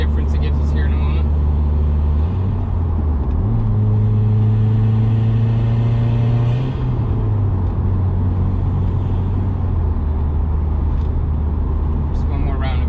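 A 2017 Subaru WRX Limited SportTech accelerating toward 70 on the road, its steady engine drone and tire roar rising in pitch through a gear change, heard continuously from inside the cabin.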